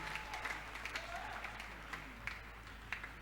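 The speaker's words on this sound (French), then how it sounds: "Célébrez Jésus avec une offrande d'acclamation." A church congregation at a testimony service applauds together, a soft, steady patter of many hands with a few sharper claps standing out, sounding somewhat distant and fairly quiet throughout.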